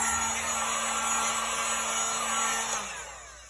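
A heat gun from Harbor Freight blows a loud, steady hot-air roar with a constant hum while drying paint on a bamboo painting, then winds down and fades near the end.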